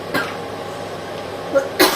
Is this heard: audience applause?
no